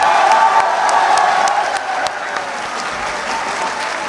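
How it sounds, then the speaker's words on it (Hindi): Warm applause and scattered cheers from a university audience at an Urdu poetry mushaira in Lahore, sustained and dense throughout, easing slightly toward the end. "यार आपके लिए बहुत सी तालियां आप लोगों को"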